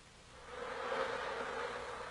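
Bees buzz steadily around the entrance of a hive as a continuous, even drone that swells slightly toward the middle. The sound is moderately close and there is no talking.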